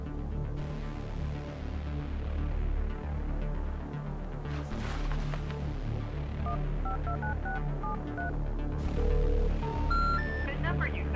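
A phone number is dialed with short, distinct tone beeps in an irregular sequence over a steady low hum and murmuring voices, ending in a rising series of tones.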